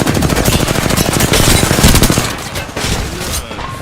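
Rapid automatic gunfire from smart bullets in a video game, a loud dense burst of overlapping shots that keeps rattling before thinning out toward the end.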